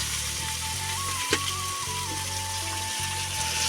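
Sliced banana fries in a pan for a banana curry in the Kumaon hills, with a steady close sizzle over a low rhythmic engine hum and a brief clink partway through.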